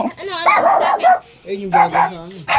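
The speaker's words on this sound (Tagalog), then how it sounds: "Ay, yung aso, baka makagat ako." A house dog barks and yips loudly and close by in short bursts, with a whining, howl-like tone between them and a person's voice mixed in.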